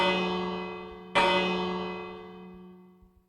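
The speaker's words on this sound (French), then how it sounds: "Sonnez la cloche 2 fois" A resonant bell at a Japanese shrine in Minecraft rings twice, the second strike landing about a second after the first and both ringing out in a long, slowly fading tone, with a couple of soft taps near the end.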